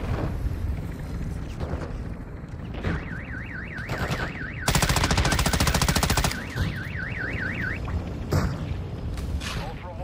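Vehicle-mounted gunfire in a video game: a sustained rapid automatic burst stands out mid-clip, with scattered shots and booms before and after, alongside a warbling siren-like tone and talk in the background.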